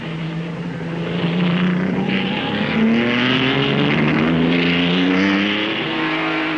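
Vanwall Formula One racing car passing on a Grand Prix track, its loud engine note rising and falling in pitch as it goes by, with a broad roar and no talk.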